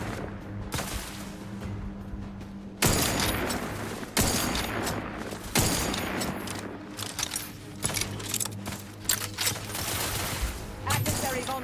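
An allied companion lays down gunfire in Outer Worlds 2, with several loud separate volleys of shots and crackling impacts in irregular bursts, and a voice speaking between them.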